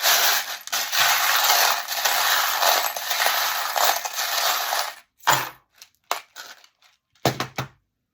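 Fortune-telling charms rattle and crunch together in a loud, continuous jangle for about five seconds, then a few short separate clinks and drops follow with silence between them.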